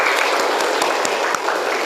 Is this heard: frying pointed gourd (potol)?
no